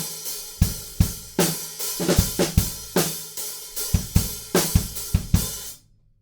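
A drum kit plays a rock chorus groove with the snare adding extra accents, sharp repeated hits in a steady driving rhythm that stop abruptly into silence near the end.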